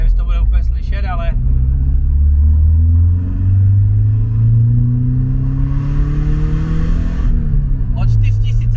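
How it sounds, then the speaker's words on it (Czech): BMW E36 engine revving up under acceleration, loud and close, its pitch climbing steadily over several seconds, easing briefly, then rising again; a person talks over it at the start and end. "Já ti zkusím trochu zaakcelerovat, ať slyšíš ten zvuk."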